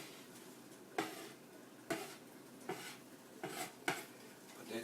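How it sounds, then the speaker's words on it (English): A knife chops through thinly rolled dumpling dough on a board, giving about six sharp, separate knocks spaced roughly a second apart over a soft kitchen background. "Just want to cut your dumpling in strips to the size and width that you desire."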